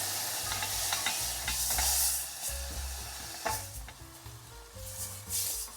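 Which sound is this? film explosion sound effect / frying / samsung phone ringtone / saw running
frying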